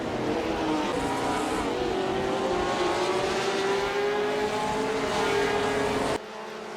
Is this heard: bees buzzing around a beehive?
no